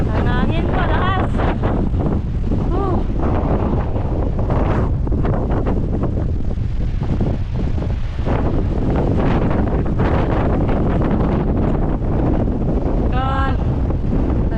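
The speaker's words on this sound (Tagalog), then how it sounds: "Ang hangin po, lakas." Steady, roaring wind buffets the microphone throughout on a mountaintop, with brief voices and whistling tones breaking through now and then.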